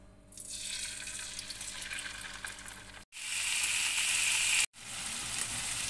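Scrambled eggs for fried rice sizzle and fry loudly in a hot pan, a steady hissing crackle that cuts out briefly twice and resumes stronger, with no talking.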